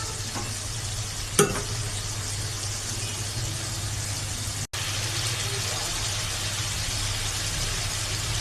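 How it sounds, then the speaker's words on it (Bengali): Masala spice paste fries and sizzles steadily in a pan while being stirred, a close continuous crackle with one sharp scrape of the utensil, no voices. "মশলাটা এখন আমি কিছুক্ষণ নাড়াচাড়া করব।"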